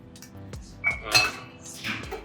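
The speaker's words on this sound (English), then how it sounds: "We're going to be using rye whiskey, cognac. This is another stirred drink." A stirred New Orleans-style old fashioned of rye whiskey and cognac, with close metallic clinks and scrapes of a bar spoon against a glass or mixing vessel, quiet and intermittent, with no voices.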